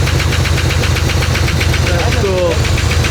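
A 1968 Oldsmobile 442 muscle car engine idles loudly and close, with a steady pulsing, lumpy rhythm and some knocking under it.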